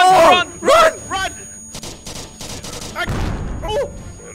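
A grenade detonates in the VR game Fast and Low, a broad rumbling blast arriving after a burst of gunfire-like cracks, close and loud, with excited voices shouting before it.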